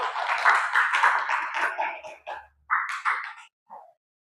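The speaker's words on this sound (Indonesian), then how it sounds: "Tepuk tangan untuk semua." Classroom applause for everyone at the end of an Arabic lesson at a madrasah, a short burst of clapping that fades into scattered claps and stops after a few seconds.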